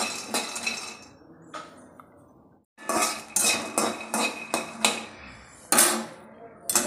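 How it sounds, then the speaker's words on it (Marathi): Peanuts being dry-roasted in a kadai, a spoon scraping and clinking against the metal pan in repeated sharp strokes, with a brief quiet pause midway. "आता ह्याच कढाईमध्ये मी शेंगदाणे भाजून घेणार आहे।"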